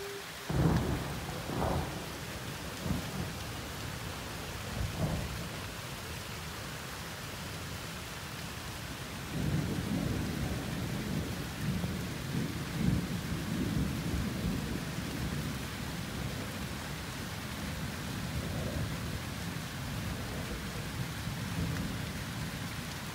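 A Christmas thunderstorm: steady rain hisses on surfaces all the way through, while thunder rumbles and cracks in several separate rolls, some near and sharp, others low and drawn out.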